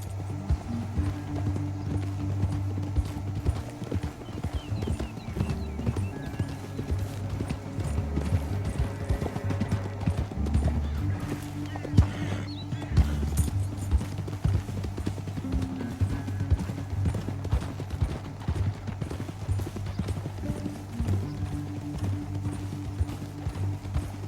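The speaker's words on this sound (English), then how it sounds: "get off your horse" Steady clip-clopping of horse hooves in Red Dead Redemption 2, a continuous rhythmic trot over a low rumbling backdrop, with an occasional faint whinny.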